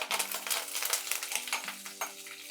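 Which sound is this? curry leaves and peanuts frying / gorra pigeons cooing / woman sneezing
curry leaves and peanuts frying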